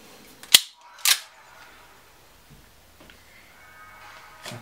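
An SSP1 airsoft gas pistol running on green gas fires two sharp, close test shots in quick succession, followed by quiet handling clicks and faint mechanical rattles.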